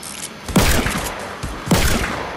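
Gunfire in a zombies video game: two sharp, loud bursts roughly a second apart, each with a heavy low thump and a broad crackling tail over a steady noisy game background.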